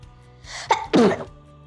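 A single close, sharp sneeze with a short breathy intake before it, loud against a quiet background.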